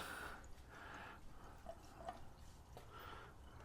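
Coolant poured into the radiator of a Suzuki GSX125S motorcycle, a faint, close trickle and glug of liquid with a few small drips, quiet and steady without speech.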